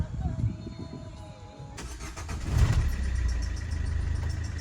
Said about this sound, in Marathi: आपण गाडी मागे घेतोय